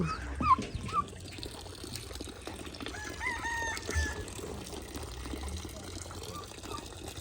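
Chickens clucking and a rooster crowing at a rural family home on a cold morning, with calls rising over steady outdoor background noise and faint voices.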